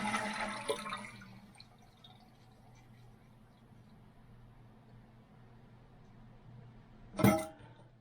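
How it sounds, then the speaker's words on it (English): A household toilet with a faulty flapper that drops too soon is flushed after its water supply valve is shut off, giving a short burst of rushing water near the end following a quiet stretch. "We're going to shut the water off. And then give it a flush."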